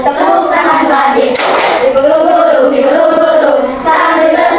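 Standing schoolchildren clap along during a classroom song game as they sing together. Loud, energetic group clapping mixes with the singing voices, with a burst of stronger clapping partway through.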